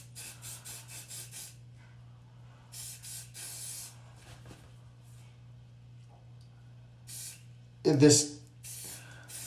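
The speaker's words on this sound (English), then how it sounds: "if I spray hairspray on my bleached shirt, it'll go away" Hairspray is sprayed onto a bleached shirt in one short, loud burst near the end, following a stretch of quiet talk.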